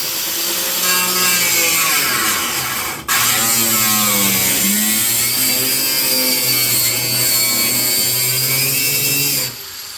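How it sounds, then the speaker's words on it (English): Cutoff tool or grinder slicing through the metal floor pan of a 1984 Dodge Omni GLH, a loud sustained whining screech with shifting pitch, a brief break midway, then resuming until it stops. "that's the only problem with the cutoffs and the grinders is you just can't get in there far enough to angle it"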